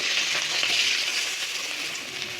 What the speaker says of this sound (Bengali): এইভাবে সব মাছগুলোই ভেজে ভেজে তুলে নেব